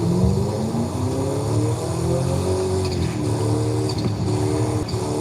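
A truck engine in Forza Horizon 5 drones loudly with a rising, whistling turbo whine on top, pitch sliding up and down steadily, no voices.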